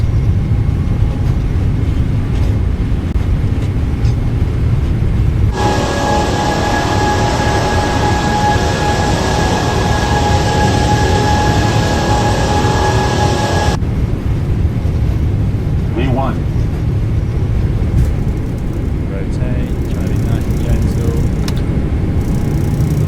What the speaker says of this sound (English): There's that roar just at takeoff thrust.